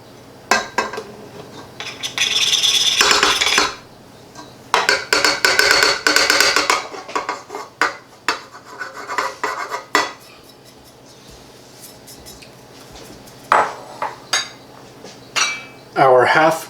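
Flour and other dry baking ingredients for almond biscotti tipped into a mixing bowl, heard as bursts of clinking and scraping against the bowl, loud and close, with quieter clinks between and no talking.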